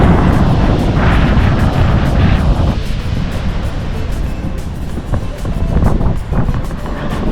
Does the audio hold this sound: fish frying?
no